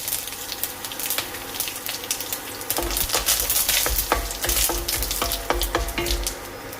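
Curry leaves, fenugreek seeds and green chillies hitting hot oil set off a loud, close crackling sizzle that grows busier partway through, with sharp spattering pops and no voices.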